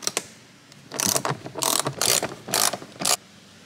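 A hand ratchet removes bolts on a Toyota Tacoma, giving close, loud bursts of rapid clicking in about five separate runs with short pauses between them.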